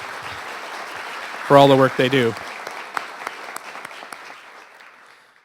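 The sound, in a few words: applause for the staff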